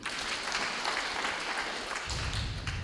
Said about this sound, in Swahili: naomba ile kamati kuu ambayo ilianza katika kutoa mchango wao, nao naomba tuwapigie makofi